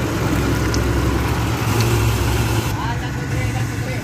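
Road rollers compact fresh asphalt during road construction, their steady diesel engines rumbling loud and close throughout, with someone talking over them.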